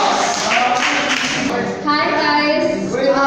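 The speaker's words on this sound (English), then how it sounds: "let's give them a big round of applause" An open mic audience applauds the performers: a dense, steady wash of clapping fills the first half, then fades out as a person begins speaking close to the microphone.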